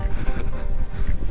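Strong cold wind buffets a microphone on Mont Ventoux at about 7 degrees, a loud steady low roar with gusty rumbling filling the whole moment, no voices.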